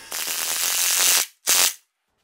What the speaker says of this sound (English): To drive the screws in farther, I use my impact drill.